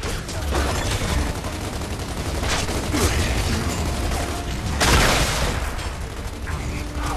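Sniper and rifle fire crackle through a Gears of War 2 firefight, sharp shots and bursts at a moderate level over a noisy battle backdrop, with a louder blast near the middle.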